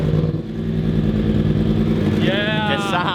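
Racing motorcycle engine idling loud and close after being started, a steady rough throb with a rising rev near the end, while people talk over it.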